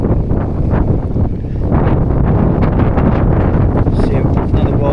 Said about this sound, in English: It's somewhat breezy today.